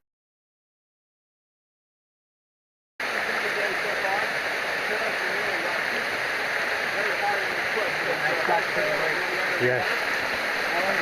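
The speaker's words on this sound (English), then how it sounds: "The water off the mountain follows the path of least resistance, which is the trail." Rainwater runs off the mountain and down a trail on the Taum Sauk Section of the Ozark Trail. After three seconds of silence, a steady rushing, gurgling flow continues close by, with a brief spoken word near the start.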